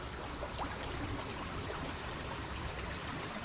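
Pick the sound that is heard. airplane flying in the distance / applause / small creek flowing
small creek flowing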